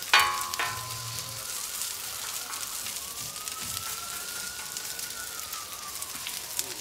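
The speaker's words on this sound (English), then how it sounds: "Just some regular onions, nothing fancy. Just grill these up real good." Plain onions sizzle steadily on a Royal Gourmet 36-inch flat top grill, a continuous close hiss with light crackling and a brief scrape or clatter at the start, no voices.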